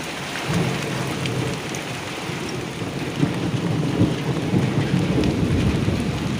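Heavy rain pours steadily outside a tent with thunder rumbling through it, a dense, continuous roar that swells slightly in the second half, with no talking.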